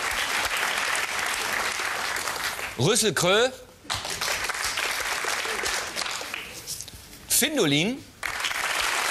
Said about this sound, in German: Beifall bitte.